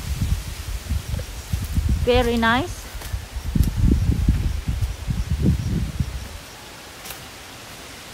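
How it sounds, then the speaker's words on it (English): Wind gusts through the leaves on a one-hectare farm in Lipa City, a steady broadband rustle lasting most of the clip, with a voice talking over it and fading out near the end. "It's quite windy here."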